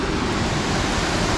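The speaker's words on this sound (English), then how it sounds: "Epic waterfall." Yosemite's Vernal or Nevada Fall roars in a steady, loud, broadband rush of falling water, close by and unbroken for its whole short length.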